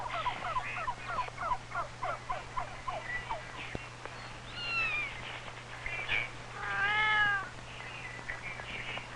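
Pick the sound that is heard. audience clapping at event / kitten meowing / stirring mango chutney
kitten meowing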